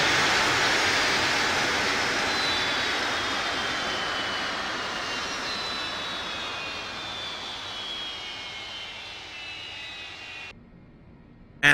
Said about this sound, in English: and we'll cut the engines.